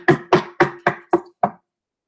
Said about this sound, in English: The pigs were deep in conversation when they heard an angry knock on the door.